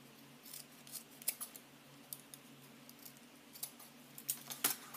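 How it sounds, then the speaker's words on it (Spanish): Small scissors snip the corners off pieces of ribbon for a flower headpiece, a scattering of quiet crisp cuts at irregular intervals over a faint background hum. "simplemente cortamos las esquinitas para empezar ya a sellarlos"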